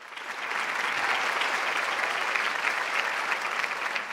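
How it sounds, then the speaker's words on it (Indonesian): Sustained audience applause from a television studio crowd at a Ramadan Quran memorization show, steady and dense for about four seconds with no speech. "Boleh tepuk tangan untuk Ahmad."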